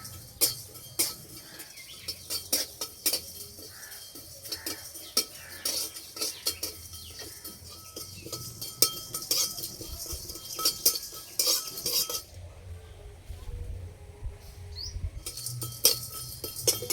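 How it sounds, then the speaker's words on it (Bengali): Whole spices (cumin, whole garam masala, dried red chillies) dry-roasted in a pan, with light scattered clicks and scrapes of a utensil stirring them, faint and intermittent, without talk. "প্রথমে আমি গোটা মশলা ভেজে নেব।"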